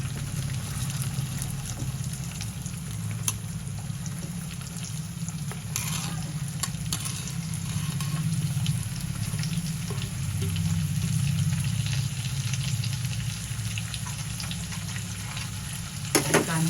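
Onion frying in oil with curry leaves, ginger, garlic and green chili for dhaba-style paneer bhurji, a steady close sizzle with occasional stirring scrapes throughout, no talking.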